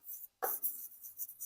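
A pen writes the word 'leaders' in a few faint, quick scratchy strokes, with a short pause between them and no talk.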